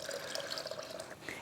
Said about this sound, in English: it looks like I need to add a little bit more water